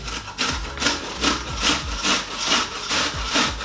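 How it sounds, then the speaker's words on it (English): Onion being grated on a box grater, a steady rhythm of rasping strokes, about one stroke every half second, each a scratchy rub, close and clear with no talk. "we're going to grate the onion first, then the potatoes"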